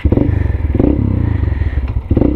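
A motorcycle engine rumbles close by on a solo ride in Zamboanga Sibugay, a steady, loud, throbbing drone with a slight clatter and no voices.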